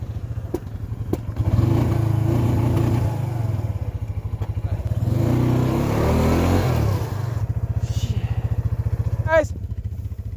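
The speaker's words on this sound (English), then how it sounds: "We got her out, thanks to the Suzuki." A Suzuki vehicle pulling out of mud on a farm, its engine revving hard and loud up close in rising surges with clattering, while voices shout over it.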